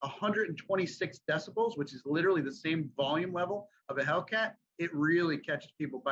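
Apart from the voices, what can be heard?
No distinct noise like a dog, phone or traffic.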